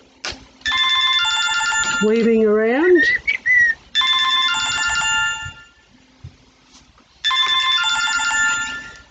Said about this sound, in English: There's my phone ringing, but I'm not going to answer it.